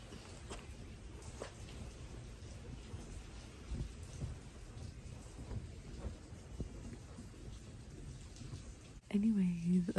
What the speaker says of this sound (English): as I was saying, it's currently raining outside. I don't know if you can hear.